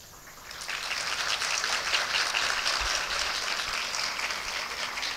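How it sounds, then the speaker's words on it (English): Steady, dense applause from a large audience at a formal anniversary function fills the space, starting quieter and swelling into sustained clapping that carries on without talk. "that's why they're clapping so hard."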